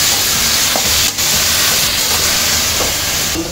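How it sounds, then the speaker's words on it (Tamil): Eggplant, onion and tomato sauté in a pan with a loud, steady sizzle and hiss, broken by a few soft stirring knocks. "இதை நல்லா கிண்டி வச்சுட்டு ஒரு 5 நிமிஷம் நல்லா இந்த கத்திரிக்காயெல்லாம் வதங்க விட்டுருவோம்."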